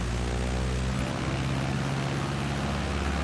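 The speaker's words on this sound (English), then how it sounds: "We'll throttle up." Simulated Cessna 152 single-engine propeller plane in Microsoft Flight Simulator, its engine drone rising steadily as the throttle opens, loud and continuous with a strong low harmonic hum and no talk.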